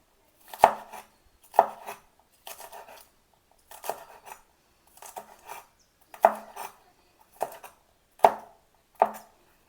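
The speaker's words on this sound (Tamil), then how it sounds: "இப்படி தான் சின்ன சின்னதாக நம்ம கட் பண்ணலாம்." A knife chops onion flower stalks into small pieces on a board, about nine sharp, separate thuds at an uneven, unhurried pace, close up with quiet gaps between the cuts and no speech.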